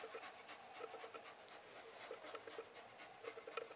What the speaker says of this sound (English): Adorable puppy.